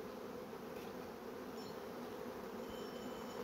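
Honey bees shaken off a hive frame fill the air with a dense, steady buzzing swarm, close and continuous throughout with no talking.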